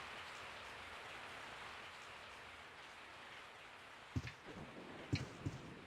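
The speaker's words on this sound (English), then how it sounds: "I woke up to the sound of falling rain." Steady rain falls in the Resident Evil 3: Nemesis video game, a dense even hiss of drops on surfaces, joined near the end by a few dull thumps.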